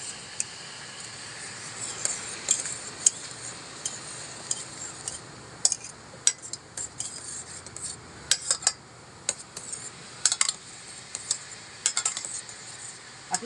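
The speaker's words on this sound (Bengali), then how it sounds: "বসিয়ে হাতা দিয়ে নাড়তে হবে।" A ladle stirs a soap mixture made with gondhoraj lemon peel in a pot set over hot water, giving faint scraping with repeated sharp metallic clinks and taps at an irregular pace.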